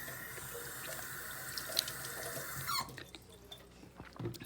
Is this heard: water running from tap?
yes